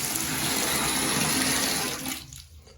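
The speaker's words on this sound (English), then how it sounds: "So here's the hot water. We're gonna turn it on and start our timer." Hot water pours steadily from a tap into a drain, a loud, broad rushing stream that holds evenly and then fades away as the flow is shut off.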